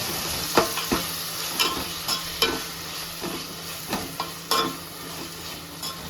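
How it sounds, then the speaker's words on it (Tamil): Chopped tomatoes fry with sautéed onions in a pan for a Tamil prawn kuzhambu, a steady soft sizzle broken by a series of sharp spoon clinks and scrapes as the mixture is stirred. "பொடியாக நறுக்கி வச்ச தக்காளியை நல்லா வெங்காயம் வதங்கிட்டோன்னா அதில் சேர்த்தாங்க."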